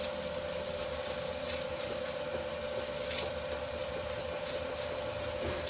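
Spalted hackberry wood is sanded to remove shiny spots while it spins on a wood lathe. A steady, close hiss of abrasive rubbing runs throughout with faint brief scuffs, and no one speaks.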